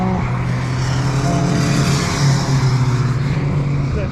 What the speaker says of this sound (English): that supercharged mini is nice